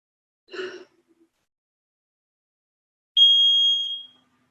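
A brief muffled sigh-like sound, then after a pause a single clear, steady electronic beep lasting under a second, alone in silence.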